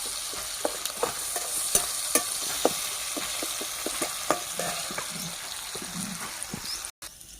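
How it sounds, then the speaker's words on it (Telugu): Sliced onions fry and sizzle in hot oil in a pan for a village-style egg curry, a steady crackle broken by sharp clicks and scrapes of a spoon stirring, close and moderately quiet, with no talking. "ఉల్లిపాయలు బాగా వేగినాయి"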